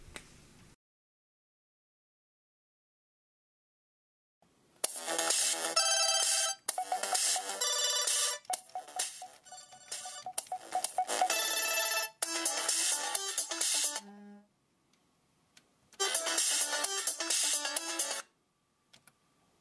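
A ringtone plays on a Samsung Galaxy Note 2 in bursts that start, stop and restart several times, clear and moderately loud with short silent gaps between.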